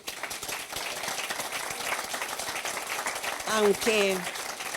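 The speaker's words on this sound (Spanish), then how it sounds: "yo pido un aplauso para él" An audience claps steadily throughout, a dense patter of applause, with a brief voice or cheer rising near the end.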